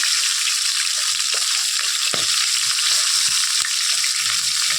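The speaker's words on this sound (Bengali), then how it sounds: "মাছের মাথাটা লাল করে ভেজে দেবো" Fish heads fry in hot oil in a kadai, a loud, dense, continuous sizzle with occasional soft clinks and pops, heard up close with no talking.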